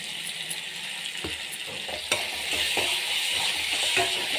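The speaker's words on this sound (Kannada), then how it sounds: "ಟೊಮೊಟೊ ಬದನೆಕಾಯಿ ಎಲ್ಲ ಚೆನ್ನಾಗಿ ಫ್ರೈ ಆಗಿದೆ" Tomato and brinjal frying in a pan, with asafoetida added, for vangi bath: a steady hiss of sizzling oil with intermittent scraping stirs and one sharp clink of a utensil.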